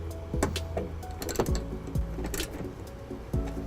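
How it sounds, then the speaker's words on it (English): A socket wrench with a 10mm socket tightens the ground bolt of trailer wiring on a 2015 Nissan Rogue body, giving a run of close, rapid ratchet clicks and metallic rattles in short bursts. "we'll tighten it up with our 10mm socket."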